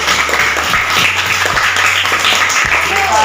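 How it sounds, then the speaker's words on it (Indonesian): Classroom of students clapping for group 3 after a discussion on globalization, a loud continuous patter of many hands close by with a low hum underneath. "tepuk tangan dari kelompok 3"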